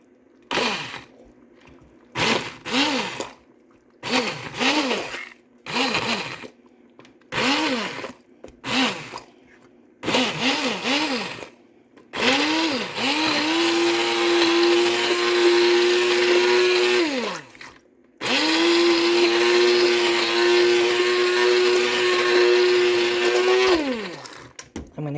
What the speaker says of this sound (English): This is my hand blender.